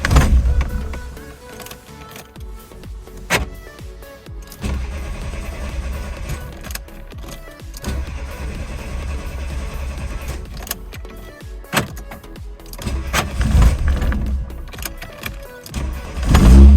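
A Volkswagen Golf Mk1 with a carburetor engine runs in close, uneven bursts of mechanical whirring and sputtering with sharp clicks, rising near the end.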